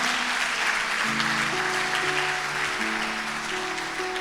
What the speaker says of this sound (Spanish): Puede darle un aplauso al Señor en esta hora.